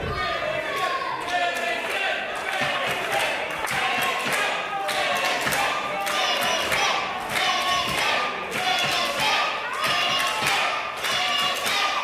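An indoor crowd at a live WrestleForce pro wrestling show in Dagenham cheers and chants in rhythmic waves while bodies thud on the ring canvas. The sound is loud and constant, with a commentator talking throughout.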